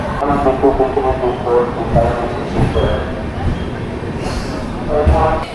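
A passenger train from Kolkata toward Puri pulls into Kharagpur station with a loud, steady rumble of wheels and carriages and some metallic squeal near the end, heard up close.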